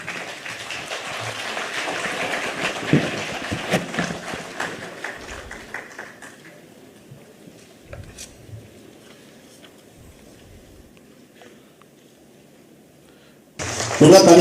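An indoor audience claps loudly for the arriving chief minister at a solar self-employment scheme beneficiaries' event. The applause mixes with crowd noise and voices, fades to a quiet room after about six seconds, then a sudden loud burst returns at the very end.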